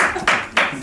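Hands clapping at a lesson, a few sharp claps in quick succession, close and fairly loud against a busy background.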